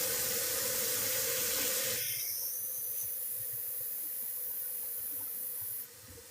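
Broadband rushing water from a rinse-off of a super sudsy sponge, loud for two seconds, then settling into a softer steady hiss that fades near the end.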